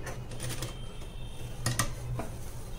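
A sewing machine stitching a zip onto a blouse, a rapid mechanical clatter running steadily with a few louder ticks and knocks, close by, no talking.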